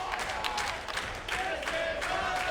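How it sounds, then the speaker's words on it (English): A wrestling crowd at a TNA X Division match cheers and applauds in rising bursts, a busy, mid-distance mix of clapping and shouts that swells and dips several times without stopping. "Listen to the crowd. They're appreciating this as it goes on."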